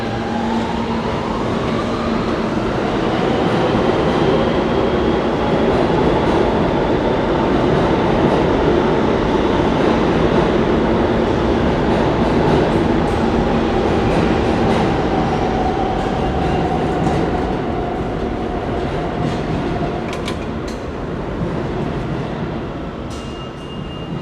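A New York City subway A train rides uptown through Manhattan toward 145th Street, a loud sustained rumble of wheels and car noise with rising tonal whines and faint squeals, heard from inside the car.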